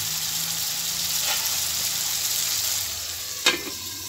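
Tomatoes cooking under a lid in a pan give off a steady, even sizzle and hiss, with one short clink near the end.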